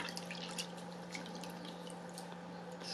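While a reborn doll's skin tone is being painted, water drips and trickles back into a container in a quiet room, with light irregular splashes over a faint steady hum.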